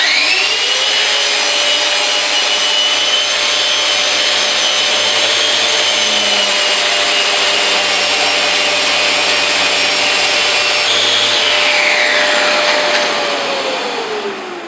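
A rotary/eccentric sander runs continuously on wood for a Gothic bench, a loud, steady whirring hum with a shifting rubbing tone, close and uninterrupted, fading slightly at the end.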